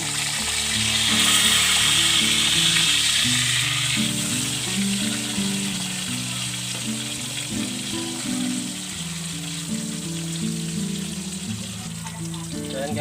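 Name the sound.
tilapia frying in oil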